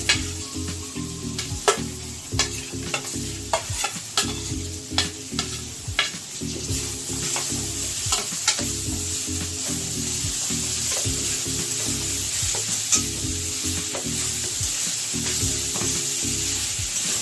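Figs for a vegetarian Bengali dumurer dalna fry in a pan under a constant loud sizzle, while a spoon scrapes through them in regular strokes about once a second.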